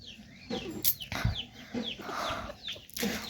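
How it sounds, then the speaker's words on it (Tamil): Backyard chickens cluck and squawk near at hand while pecking at leftover food scraps on the ground, giving short, irregular calls in scattered bursts with a few sharper cries and faint bird chirps around them. "கீழே இருக்கிறது எல்லாமே மிச்சம் எல்லாம் கோழி சாப்பிடுது"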